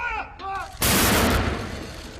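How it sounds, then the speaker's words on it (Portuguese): Cannon salute fired across the United Kingdom in honour of the Duke of Edinburgh: a single loud, sharp blast with a long rolling echo, after a brief moment of talk. "Neste sábado, houve salvas de canhão em todo o Reino Unido em homenagem ao Duque de Edimburgo."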